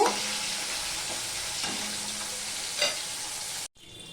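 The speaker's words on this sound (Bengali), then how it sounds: "দেখো মাছের মাথাটা ভাজা হয়ে গেছে" Fish head sizzling and frying in a pan, a steady close crackle with a few stirring or turning scrapes, then a sudden brief cut near the end before the sizzle resumes.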